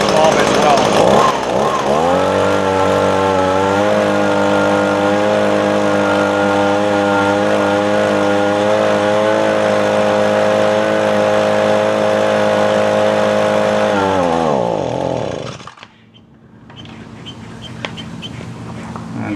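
A small two-stroke engine on outdoor power equipment runs steadily at a loud, buzzing idle, then sputters and dies near the end, leaving quiet handling noise.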